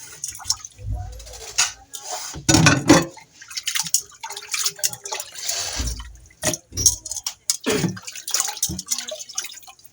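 Raw pork being washed in water for humba adobo, with splashing, dripping and sloshing in irregular bursts, fairly close, and some speech in between.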